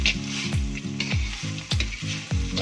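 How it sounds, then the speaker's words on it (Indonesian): Tempeh, anchovies and peanuts for sambal goreng sizzle steadily in a pan while being stirred, with about five regular scraping strokes cutting through the close, continuous frying hiss. "Ini kita aduk hingga merata."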